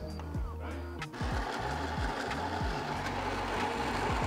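A Philips 3300 super-automatic espresso machine runs while making a cappuccino, giving a steady, fairly quiet mechanical hum with rhythmic pump pulsing throughout, close up and without talk.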